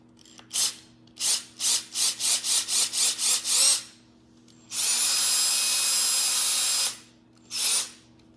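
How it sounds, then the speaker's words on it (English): A power drill fitted with an extruder disc for soap dough revs in a quick series of about nine short bursts, then runs in one long steady whir before a final brief burst. "Put this back in my drill."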